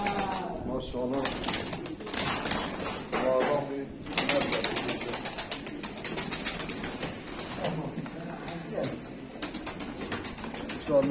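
Pigeons coo softly and steadily inside a crowded coop, with a few wing flaps, while someone talks over them throughout.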